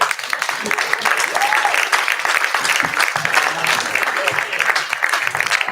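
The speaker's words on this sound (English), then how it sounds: "can we all just stand up and give her an amazing round of applause?" An audience at a church family gathering claps warmly in a continuous round of applause, with a few voices calling out and talking underneath.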